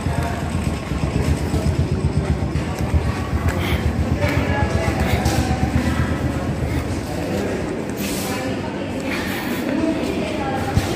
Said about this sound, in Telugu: ఫైనలీ ధర్మవరం రైల్వే స్టేషన్ చేరుకున్నాను